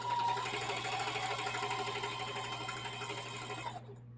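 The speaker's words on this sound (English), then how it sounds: "So we're just continuing sewing pieces together to make one of those." A sewing machine stitches flowered quilt pieces together in a steady, close, continuous whir that runs for almost four seconds before stopping abruptly into silence.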